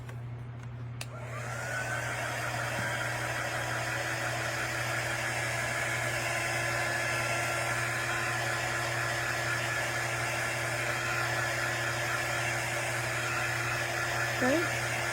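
A dryer blows over wet chalk paste on a craft project, a steady, loud whirring rush that starts after about a second and runs on unbroken, alone with no talk over it.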